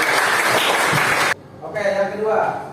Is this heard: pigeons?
no